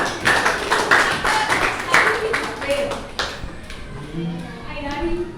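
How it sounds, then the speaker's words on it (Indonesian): Students in a classroom clap together in loud rhythmic bursts for a few seconds, then the clapping fades as children's voices continue talking. "Tepuk tangan buat Gina."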